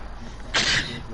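A single short sneeze bursts out after a moment of quiet room sound, close and fairly loud, lasting about a quarter of a second.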